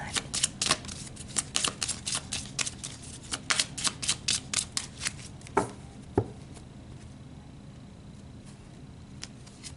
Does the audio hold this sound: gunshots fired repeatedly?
no